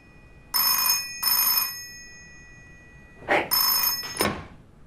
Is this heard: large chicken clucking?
no